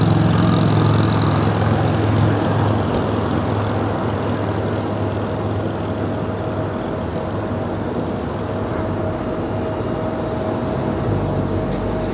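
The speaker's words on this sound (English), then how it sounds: "the Korean Air 777 now making that left-hand turn on the taxiway Lima" A Korean Air Boeing 777 taxis at Los Angeles International Airport, a loud steady jet engine rumble and whine that holds unbroken from a fair distance.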